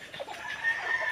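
Chickens clucking at moderate distance, a few soft overlapping calls over a steady background hiss with no talk.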